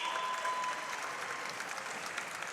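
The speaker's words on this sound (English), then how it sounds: "He takes the applause from the crowds." A crowd at a Brazilian jiu-jitsu pro event in Ireland applauds after a heavyweight submission win, steady dense clapping that holds fairly loud and even throughout, with no one speaking over it.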